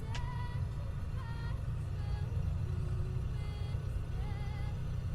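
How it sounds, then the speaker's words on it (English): The Black Square Turbo Bonanza in a flight simulator hums along with a steady, low engine drone and faint high whine, joined by brief tonal beeps and chirps over its constant roar. "you gotta love the sound of those turbos"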